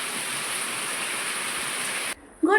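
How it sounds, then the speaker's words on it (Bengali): Cold, torrential early-morning rain pours outside an open door as a steady, dense hiss that runs close and loud, then cuts off abruptly near the end before a brief tonal sound follows. "ঠান্ডা মুষলধারে বৃষ্টি।"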